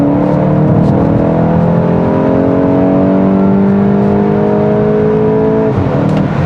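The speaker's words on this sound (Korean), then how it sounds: "스포츠 모드에서 풀 가속을 하면은" A Volkswagen Golf GTI engine pulls hard at full throttle in sport mode, its loud note climbing steadily in pitch for several seconds before dropping at an automatic gear change.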